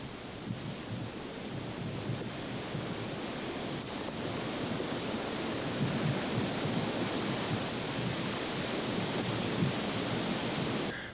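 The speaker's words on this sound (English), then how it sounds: "the lava pours down the steep falls" Molten lava at Kilauea pours down steep falls into a lava pond, a steady, dense roar and rush like heavy surf or a waterfall, with wind buffeting the microphone throughout and no talking.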